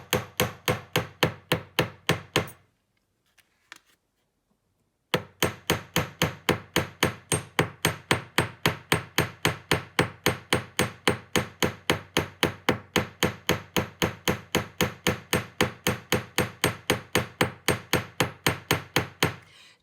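A hammer strikes metal to texture heart-shaped earrings and a pendant, giving sharp, evenly spaced blows in a fast, steady rhythm, with a brief pause early on before the strikes resume.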